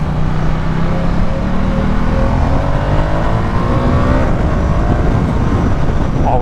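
A 2021 Ducati Diavel 1260S motorcycle engine revs loud and close under acceleration, a continuous roar with rising pitch through the gears and no talking over it.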